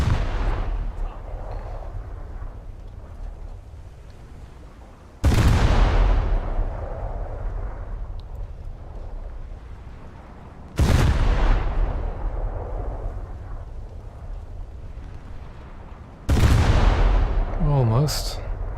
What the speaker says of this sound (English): Splash damage from shooting that barge.